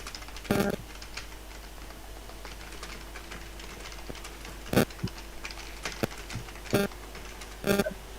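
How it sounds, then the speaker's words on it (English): Someone types on a computer keyboard with scattered, irregular key clicks and a few louder clustered taps over a low steady hum, close and without talk. "Typing."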